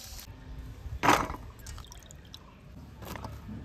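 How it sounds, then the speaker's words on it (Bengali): Raw mango pieces are rinsed in clean water. A single brief splash is followed by faint dripping and trickling, quiet and close. "এবার আমি পরিষ্কার জল দিয়ে 1 থেকে 2 বার একটু ভালো করে ধুয়ে নেব।"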